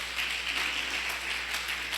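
A church congregation applauds together in a dense, steady wash of clapping that fills the room, sustained and even without pauses.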